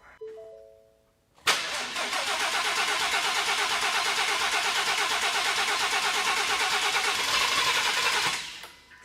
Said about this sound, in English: we're gonna go ahead and crank it for a while with that fuse pulled, let the oil system prime